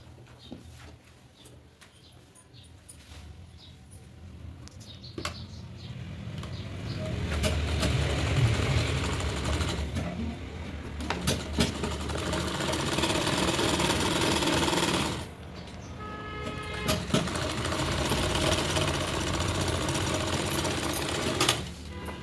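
An electric sewing machine stitching the sleeve of a katori cut blouse, running in long continuous whirring bursts with brief pauses between them, loud and close, with no talk over it.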